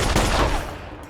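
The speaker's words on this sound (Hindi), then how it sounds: "क्यों गोलियां चला रहे?" A dense, loud burst of gunfire from a sci-fi action film crackles for about a second and then fades into a rumbling tail.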